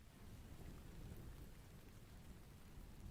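Steady rain with a low rumbling undertone like distant thunder, a continuous, fairly quiet wash of sound from a rain and thunder ambience recording, with no voices.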